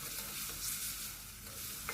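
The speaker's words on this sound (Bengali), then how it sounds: "ফোড়নটা যখন ভাজা হয়ে গেছে তখন আমি মশলার পেস্টটা দিয়ে দিলাম।" Spice paste of tomato, ginger, green chilli and cumin hits hot oil already tempered with bay leaf and whole spices, giving a continuous close sizzle and hiss with faint stirring and no voices.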